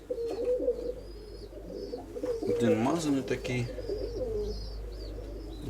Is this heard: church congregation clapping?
no